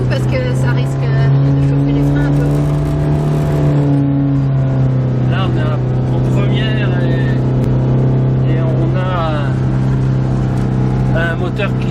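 A car engine holds high revs around 4000 rpm in first gear while descending a steep road in Turkey, a steady loud drone running throughout with a voice talking over it.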